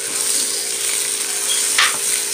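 California chiles, half an onion and a garlic clove fry in a little oil, giving a steady, loud, close hiss and sizzle with a brief sharper spatter near the end.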